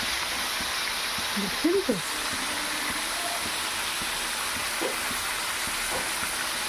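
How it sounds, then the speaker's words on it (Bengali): Chicken meat fries with onions in oil, a soft, even sizzling hiss held steady in the background while a voice briefly speaks. "এবার মাংসটা আমি বেশ কিছুক্ষণ ভাজবো পেঁয়াজের সাথে।"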